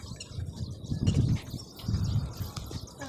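Trained pigeons cooing nearby, low throaty pulsing coos in two bursts over faint background noise.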